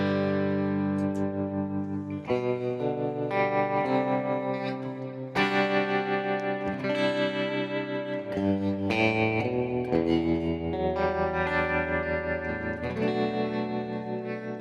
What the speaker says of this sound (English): Let's put the delay on.